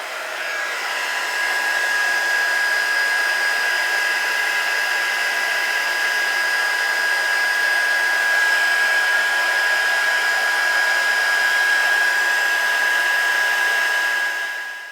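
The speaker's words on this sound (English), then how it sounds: "before we put our heat gun onto it" A heat gun blows hot air over embossing powder on a holiday card, a steady, loud blowing roar with a constant high whine that runs without break until it trails off at the very end.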